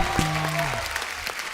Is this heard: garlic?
no